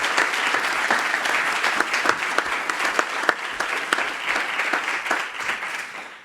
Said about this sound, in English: So please give a round of applause for our panelists.